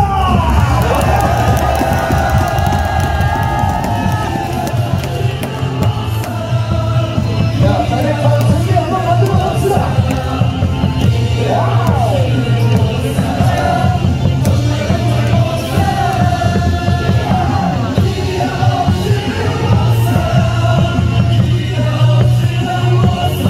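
KIA Tigers away supporters at Daegu Samsung Lions Park baseball stadium sing and cheer together as a loud, massed crowd, with melodic chanting and whoops rising over a constant roar throughout.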